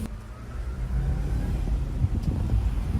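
The OkiSubies OK truck, the shop's first vehicle and several years old, drives along a city street with a low, steady engine rumble and road noise that stays close and even throughout, with no talking.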